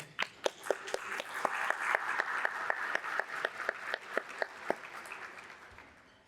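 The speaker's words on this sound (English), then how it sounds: "I want to give you a round of applause once again" Hands clap in a slow, uneven rhythm at a ceremony for Shelby County valedictorians and salutatorians, distinct claps over a soft bed of audience applause that tapers off.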